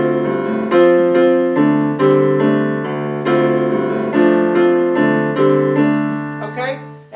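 Piano chords ring out in a steady repeating pattern, loud and close, each phrase decaying before the next, ending with a brief quicker run.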